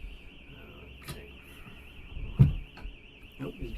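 A car alarm going off outside at dusk, heard indoors as a faint, steady warbling siren that continues throughout, with a few soft knocks and thumps nearby.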